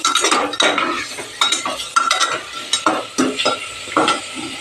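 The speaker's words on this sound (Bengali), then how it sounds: "চিকেনটা দিয়ে আমি একটু ভালো করে ভেজে নেব সাথে ভেজে নেবো আদা রসুনের সাথে" Pieces of chicken frying with ginger and garlic in a pan while being stirred, with sizzling and repeated scrapes and clinks of a metal spoon against the pan. The sounds come close and in uneven bursts, and no one speaks.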